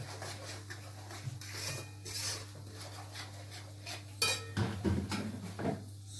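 Red chutney being stirred in a pan over low heat, with faint scraping and clinking of a spoon against metal, quiet and irregular, building into a few louder scrapes near the end over a steady low hum.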